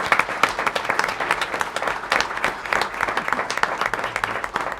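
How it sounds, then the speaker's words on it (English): A board of trustees meeting audience applauds honorees presented with certificates, a dense, steady round of clapping from many hands, close and sustained throughout. "Let's give them a big round of applause"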